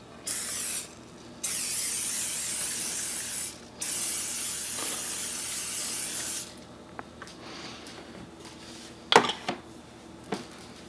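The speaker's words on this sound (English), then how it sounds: "Coat the pan with oil, making sure you get some on the corners and the sides." Cooking oil sprays from a can onto a pan in three loud, steady hissing bursts, each lasting one to three seconds, followed by a few light clinks and taps.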